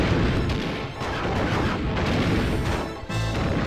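Shots and booming impacts from the Army Dillo boss fight in Donkey Kong 64, loud, dense and continuous, with a heavy blast near the end.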